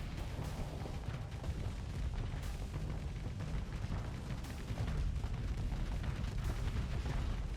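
Space weapons fire in a broadside during a Starsector space battle: a dense, continuous barrage of booming, rumbling shots and bursts that keeps going throughout, loud and heavy in the low end, with no talk.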